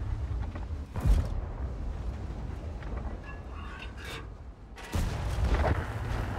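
A World of Tanks light tank, the LKpz 70 (K), fires HE rounds: two heavy booming shots several seconds apart over a constant low engine rumble and mechanical creaks.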